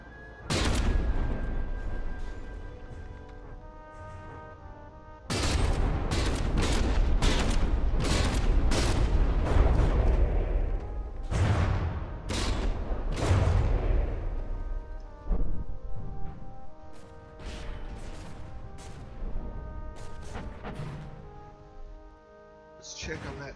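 Warship turrets fire volleys during a naval video game battle between the Tennessee and the Augustin, producing loud booming salvos in bursts with rumbling decays, and a voice commentates throughout.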